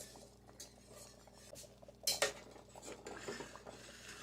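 A flat-bottom spatula scrapes the bottom of a pot of potato soup, quiet metallic scrapes and clinks with one sharper burst of scraping midway, heard close and alone.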